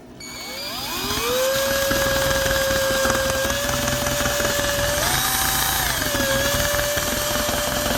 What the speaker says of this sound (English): We'll do with this new mixing drill we got.